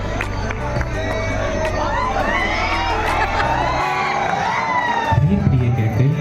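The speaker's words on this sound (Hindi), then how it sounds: "सालों के बाद जोरदार ताली।" A loud college audience at a Ram Leela performance cheers and shouts in a busy crowd roar, with high whoops and excited voices layered over steady background noise throughout.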